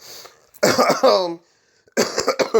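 A person coughs in two bursts separated by a short silence, each a rough, close, throaty series of hacks.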